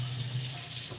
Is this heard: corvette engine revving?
no